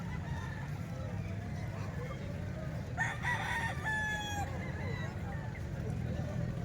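Butcher bloodline gamefowl roosters crowing at a distance, one clear drawn-out crow with a fainter overlapping call, over a steady low rumble of outdoor background noise.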